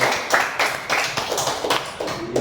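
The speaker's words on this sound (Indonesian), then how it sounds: "Tepuk tangan untuk Rizky." Scattered clapping from a small group of classmates honoring a student named Rizky in an elementary school classroom, a few uneven claps close by with no talking.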